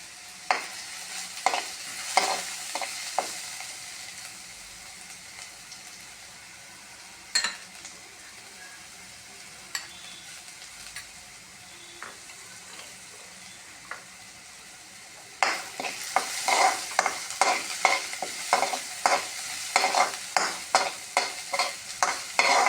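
Onions are fried and stirred in a pan for a vegetable sambar meal, giving a soft continuous sizzle with repeated crisp spatula scrapes that grow denser and louder in the last third.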